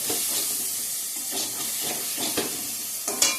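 Raw green banana curry sizzles loudly in a pan with its spices, giving a steady close hiss with scattered sharper crackles and stirring scrapes.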